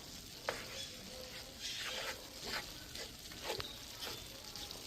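Meat and sauerkraut cooking low in a pan with a steady, quiet sizzle, broken by a few light clicks and stirring scrapes, with no voices.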